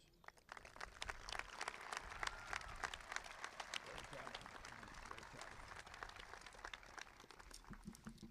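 A commencement ceremony audience applauds to welcome the speaker, with dense, steady clapping from a large crowd that rises quickly and continues throughout at moderate distance.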